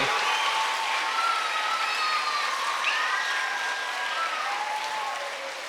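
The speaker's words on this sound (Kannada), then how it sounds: "ಜೋರಾದ ಚಪ್ಪಾಳೆಯೊಂದಿಗೆ ಚಪ್ಪಾಳೆಯ ಕರದಾಲದೊಂದಿಗೆ ಅಭಿನಂದಿಸಿದ್ದೇವೆ" An audience in a hall applauding a Kargil war veteran at a felicitation event, steady and loud clapping from many hands that holds evenly and then fades slightly at the end.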